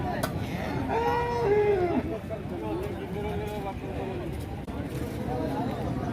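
HF cows and calves at the Gangadhara cattle market, with a clear nearby moo early on over busy market chatter and background noise.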